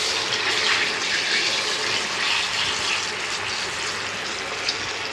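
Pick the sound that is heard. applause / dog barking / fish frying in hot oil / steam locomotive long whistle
fish frying in hot oil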